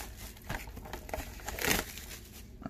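Cardboard and plastic packaging of a Pokémon Shining Legends collection box being torn open, a crinkling rip that swells to a loud burst midway, with scattered rustles before and after and no talking.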